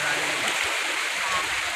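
A river rushes steadily nearby in a broad, constant wash of flowing water, with a brief voice or two faintly present beneath the stream.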